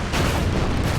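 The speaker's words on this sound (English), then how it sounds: "Stop bombarding those guys." Artillery bombardment in the World War II strategy game Order of Battle, set around Melbourne in the Pacific, sounds as a dense, steady low rumble of booming shellfire, loud and continuous for about a second.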